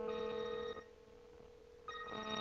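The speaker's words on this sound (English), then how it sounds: "I'm going to just dial my cell phone number." A cell phone rings after being dialed, two electronic ring tones separated by a brief pause, faint and clean with no talking.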